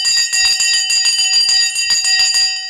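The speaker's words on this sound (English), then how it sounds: "The bell has gone." A stock market opening bell rings continuously, a loud, rapid metallic trill of repeated strikes with sustained ringing tones, fading slightly at the very end.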